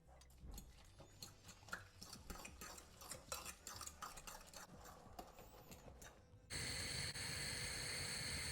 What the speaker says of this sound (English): and a good whisk.